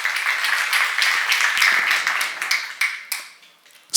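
Church congregation at a seminar claps along during a sermon, a close, fairly loud run of rhythmic group clapping that thins into a few separate claps toward the end.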